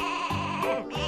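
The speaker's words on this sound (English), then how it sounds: "Listen to them baa." Three sheep on a farm bleat in a close, loud series of overlapping baas, each call wavering and nasal, with no other sounds between them.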